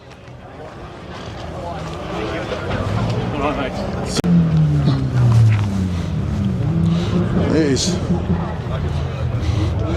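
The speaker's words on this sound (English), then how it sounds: "Every time I walk away, somebody's doing revs over there." Car engine revving nearby at an outdoor car show, loud rising and falling engine drone running under continuous talk throughout.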